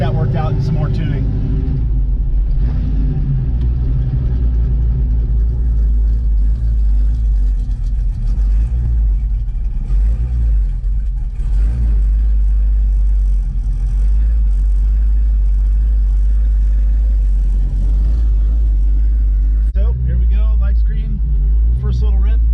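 A powerful Chevrolet Chevelle V8 roars and revs under heavy load on a dynamometer, a deep, loud, sustained rumble with rising pitch bursts toward the end.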